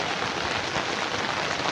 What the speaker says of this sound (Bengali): দেখছো বাইরে কত আওয়াজটা পাচ্ছ তো, কত বৃষ্টি হচ্ছে।